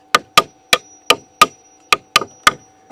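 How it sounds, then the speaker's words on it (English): Sharp hammer strikes driving nails through a wooden board, about nine blows in an uneven rhythm, loud and close, each with a brief ringing knock. "I'm going to hammer the nails on through to the other side"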